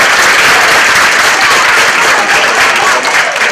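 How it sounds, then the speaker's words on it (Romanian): An indoor audience at a county council award ceremony for young footballers breaks into loud, dense applause for a junior top scorer. The clapping stays close and steady throughout, then tapers at the end. "Hai să-l aplaudăm!"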